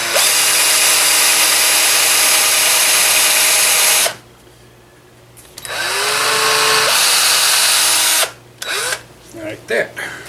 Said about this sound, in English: Use a long bit and drill all the way through.